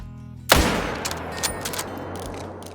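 A single loud, close bolt-action .308 rifle shot fired while hunting in the video game Call of the Wild cracks sharply, then rolls into a long echoing tail with faint trailing reports.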